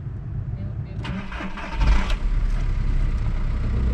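The engine of a Volkswagen MK4 TDI wagon in a junkyard cranks and catches, then settles into a rough diesel idle close by, with a brief surge as it fires. A person talks over it.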